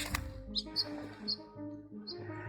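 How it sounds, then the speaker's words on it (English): Small bird chirps, a sparrow stuck frozen to a pipe outdoors in the cold, giving a few short high tweets at irregular intervals over soft background music, faint and close. "A sparrow froze to a pipe and appeared doomed to be stuck forever."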